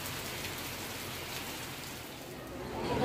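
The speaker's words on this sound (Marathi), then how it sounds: "इकडे पाऊस जोरदार लागू लागलो" Heavy monsoon rain pours steadily in a Konkan town near shops and a bus stand, a dense close hiss of drops on surfaces that swells slightly toward the end, with no talking.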